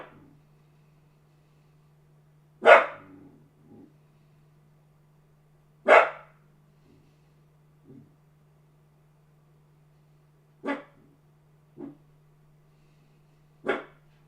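A dog barks in sharp, separate bursts: several loud barks spaced a few seconds apart, with a couple of quieter ones, over a steady low electrical hum and no talking.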